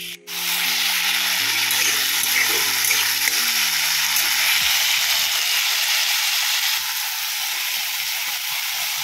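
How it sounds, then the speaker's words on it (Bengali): Potatoes fry in a home kitchen pan with a steady, loud broadband sizzle that holds through, along with a faint low hum early on and no talking. "আলু ভাজা করে নিচ্ছি আমার ছেলের আর দিদির জন্য"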